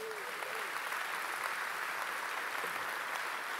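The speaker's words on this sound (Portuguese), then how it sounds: "Quem pode dar uma salva de palmas para Jesus?" Church congregation applauding steadily for the full few seconds, a dense, even wash of many hands clapping at moderate volume with no break.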